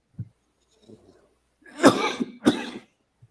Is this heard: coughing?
yes